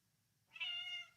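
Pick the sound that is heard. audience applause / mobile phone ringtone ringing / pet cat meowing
pet cat meowing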